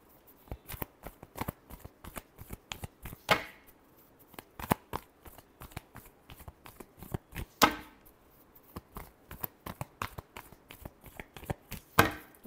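Tarot cards are shuffled by hand close up, with a quick run of crisp riffling flicks and soft slaps. Several louder bursts stand out along the way, and no one speaks.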